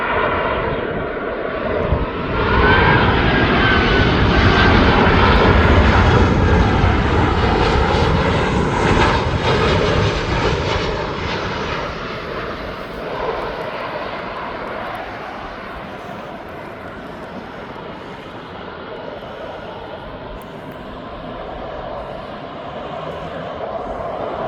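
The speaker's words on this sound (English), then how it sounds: "shortly after this Jet2 from Tenerife lands" A Jet2 airliner arriving from Tenerife lands at East Midlands Airport, its engines a broad, loud roar that swells to a peak and then slowly fades into a lingering distant rumble.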